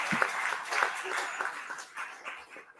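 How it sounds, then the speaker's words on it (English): Scattered applause from a small community assembly audience, thin and somewhat uneven, with a few louder claps standing out before it tapers off. "So let's have a round of applause for everybody."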